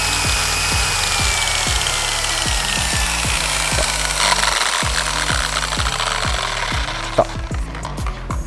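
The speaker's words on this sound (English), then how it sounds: "So, now we have a working happy polisher again." A Rupes Bigfoot 15 polisher runs steadily after a carbon brush replacement, giving a loud, close, continuous motor whine with a rhythmic throbbing pulse throughout and no speech.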